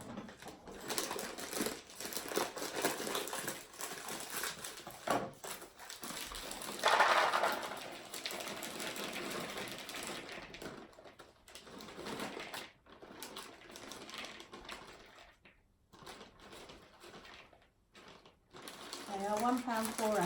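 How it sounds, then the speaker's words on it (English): A big bag of dried fruit for a fruit cake crinkles and rustles as it is handled and weighed out, in uneven bursts of crackling with quieter gaps, mixed with a person talking. "I've got a big bag of fruit here."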